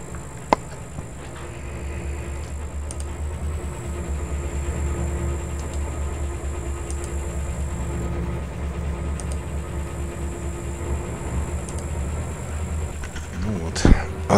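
A locomotive diesel engine in the Trainz 22 train simulator game rumbles steadily in a low, continuous drone while someone talks over it, with a few clicks and a sharp knock near the end.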